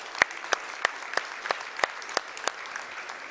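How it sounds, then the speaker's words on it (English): A sparse round of applause at a speedrunning event, a few people clapping in a steady rhythm, fairly distant, with no talking over it. "Another big round of applause."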